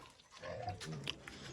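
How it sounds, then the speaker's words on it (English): A farm pig in a barn-like building on a pig farm gives a brief grunting snuffle, close and soft, lasting about a second and a half with no talk over it. "This is my mommy's pig."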